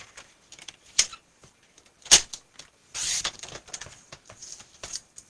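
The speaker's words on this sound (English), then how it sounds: "Let's go ahead and cut all 3 of these into a 1-inch strip." A paper trimmer cuts scrap paper into strips several sheets at a time, giving close clicks and sharp snaps, then a longer sliding slice, with lighter taps of paper being handled between cuts.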